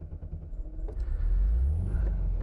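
A 1971 Volkswagen Beetle convertible's 1600 air-cooled engine cranks with rhythmic chugs, then catches and settles into a loud, steady low rumbling idle, heard close by.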